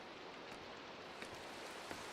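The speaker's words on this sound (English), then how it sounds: "Okay, the rain is really nice though." Minecraft rain falls as a soft, even, faint hiss of steady downpour, with a few tiny drop-like ticks and no voices.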